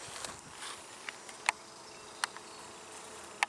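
Honey bees and drones hum softly at an open hive with no queen, a faint, steady buzzing wash broken by a few sharp ticks, heard from close by.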